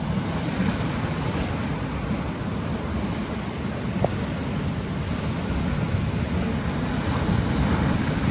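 Ocean waves surge and wash steadily along the Acadia National Park coast, a dense, loud roar of surf mixed with wind buffeting the microphone and no pauses throughout.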